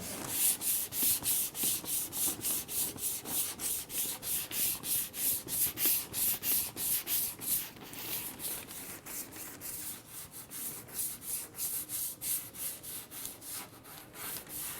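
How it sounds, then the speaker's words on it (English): Hand block sanding of guide coat on a car body panel during dent repair, a fast, even back-and-forth rasping stroke repeated steadily and close up, with no voices. "So I'm going to have to sand on that a little bit more."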